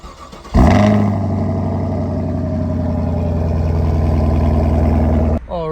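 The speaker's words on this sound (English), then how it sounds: "so you guys can hear this sick V8 cold start" A Chevrolet Camaro V8 cold-starts with a sudden loud crank and catch, then holds a steady, throbbing high idle for several seconds before cutting off abruptly.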